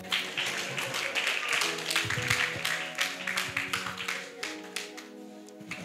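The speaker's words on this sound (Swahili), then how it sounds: "Makofi kwa ajili yangu." A church congregation claps at the preacher's request, a loose burst of scattered hand claps that thins into a few separate taps and fades toward the end.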